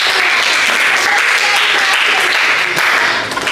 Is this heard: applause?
yes